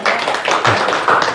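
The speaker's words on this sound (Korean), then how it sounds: "박수 한번 쳐주세요." Dense audience clapping at a lecture on emotional expression, a continuous crowd patter of many hands, close and fairly loud with no talk over it.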